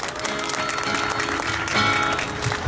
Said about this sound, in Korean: 힘찬 박수로 맞이해 주십시오.